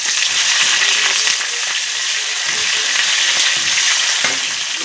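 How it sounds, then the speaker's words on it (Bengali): Chopped onion and cumin seeds frying in hot oil in a pan, a loud close continuous sizzle with crackling bursts and occasional stirring scrapes, steady throughout with no voices. "এখন আমি পেঁয়াজ কুচিটা দিয়ে দেবো, দিয়ে ভাজা করতে থাকবো।"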